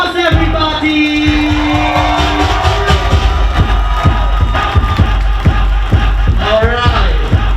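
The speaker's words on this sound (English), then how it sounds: "A round of applause, everybody!" A lively crowd at a kiki ball event cheers and whoops loudly, with shouts and voices rising over a steady thumping beat, the noise holding steady throughout.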